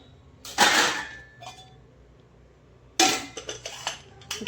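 Metal kitchen utensils and pots clatter and clink close by in two brief bursts as they are gathered up for washing, with a quiet pause between.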